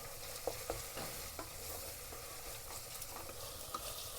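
Ginger garlic paste frying in a pan, a quiet steady sizzle broken by repeated scraping clicks as it is stirred.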